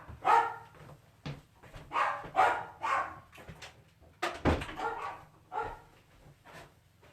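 Dogs bark indoors in a burst of loud, sharp, repeated barks and yips, closely spaced in irregular rhythm with short gaps between, over a faint low hum.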